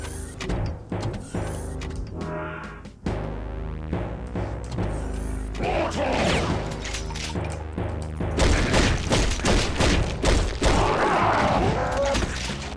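Shotgun blasts and crashing impacts in Brutal Doom, dense loud bursts of gunfire layered with game music and clanging effects, repeated rapid shots without speech.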